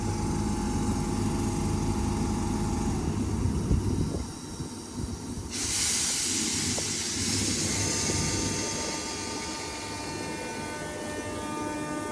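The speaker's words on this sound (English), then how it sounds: "Now departing is a 319 going to Wigan Northwestern." A class 319 electric train departs a station, with a steady rising motor whine and rumble that changes partway through, heard close up with no talk.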